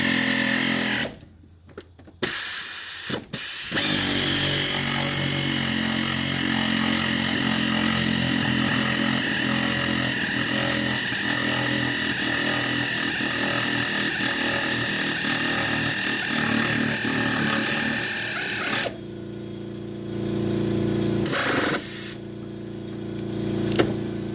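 A power tool with a 15mm socket on an extension drives the upper shock nut off a Jeep Wrangler TJ. It runs steadily and loudly for most of the stretch, with brief pauses near the start and a quieter tail at the end.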